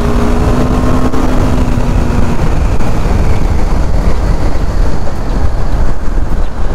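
A 2023 KTM Duke 390 BS6 motorcycle accelerates hard, its engine a loud, close, continuous roar with a brief rising tone early on, and no talking.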